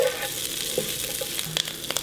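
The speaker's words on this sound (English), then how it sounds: "Okay, you gotta keep the garlic moving." Sliced garlic sizzles and crackles in a frying pan while being stirred, with a busy hiss and scattered sharp pops and scraping clicks, close and fairly loud, no talk.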